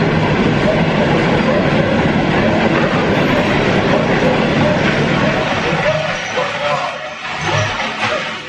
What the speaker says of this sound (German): In deinem Studio so einen Zug fahren zu lassen.